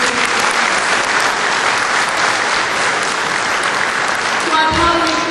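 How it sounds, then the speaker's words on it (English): A large audience bursts into sustained, dense applause at a formal ceremony honoring a Lieutenant Governor, loud and even throughout, with a few louder claps and murmurs near the end. "Please give him a round of applause."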